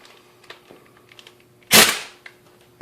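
An Air Ace air impact wrench fires in one loud, sharp hammering burst of about half a second, tested against a Harbor Freight Earthquake half-inch impact wrench, with faint shop noise before and after.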